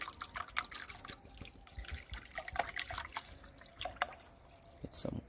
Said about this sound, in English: Get some cold water on the mackerel.